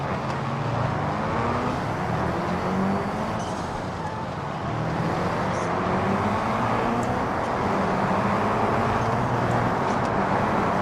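Steady car engine drone while driving in BeamNG, a continuous rumbling hum with faint gear and road noise, loud and unbroken throughout without any talking.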